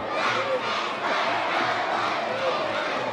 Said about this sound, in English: Good crowd on hand tonight at the JTO.